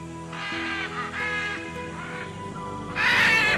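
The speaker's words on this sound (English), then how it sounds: "here in the upper canopy, the powerful, unmistakable cry of the great green macaw" Great green macaw cries from high in a rainforest canopy: loud, harsh, drawn-out squawking calls in several bursts, the last one loudest and closest, with no talk over them.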